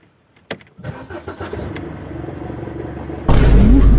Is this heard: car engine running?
yes